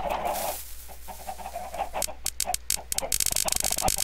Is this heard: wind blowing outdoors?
no